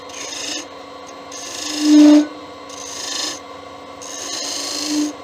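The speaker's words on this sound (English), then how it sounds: "Just grab your thin parting tool again and just give them a touch." Thin parting tool touching the lines on a small turned wooden Christmas tree on a lathe, making several close, loud rasping scrapes with a steady hum beneath them.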